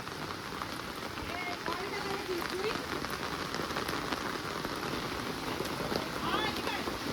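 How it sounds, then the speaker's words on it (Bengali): Steady heavy rain pouring onto surfaces around a house, a dense, even roar lasting throughout with faint voices in the background. "বৃষ্টি আসছে"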